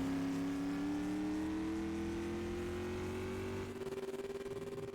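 A SUPRS supermodified race car on its warm-up lap at Oswego Speedway, engine droning loud and steady with a slowly rising pitch, then a pulsing, throbbing note as it eases off.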